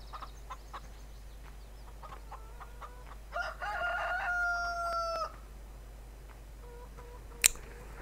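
Chickens and a rooster on a farm in Farming Simulator 2013: scattered clucks and small calls, then a clear rooster crow rising in the middle, followed by quieter clucking and one sharp brief call near the end.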